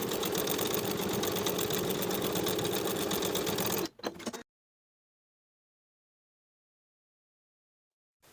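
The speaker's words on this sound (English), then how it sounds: "start from the upper edge and stay stitch to the center" A sewing machine stay stitches a blouse bodice neckline with a 1/4 inch seam allowance, running in a fast, even, rapid-fire whir for about four seconds, then stopping with a brief stutter before silence.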